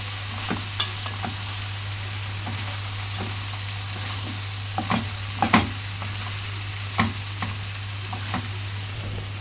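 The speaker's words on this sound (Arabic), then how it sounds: "هنحط الفلفل وتقليبه برضو" Onions, peppers and tomatoes fried in a pan for homemade shawarma, with a steady sizzle under repeated sharp scraping strokes of a utensil stirring close by, no talk.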